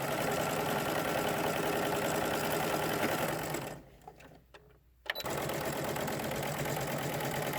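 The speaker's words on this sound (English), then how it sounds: "I just keep sewing" A sewing machine runs steadily as it stitches around the edge of a fabric mask, a close, continuous mechanical whir that stops briefly for about a second before resuming.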